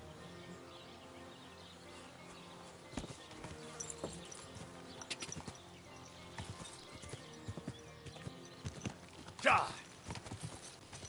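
Horse hooves clip-clop in the video game Kingdom Come: Deliverance 2, a steady ongoing patter at moderate distance mixed with game ambience and a brief louder burst near the end.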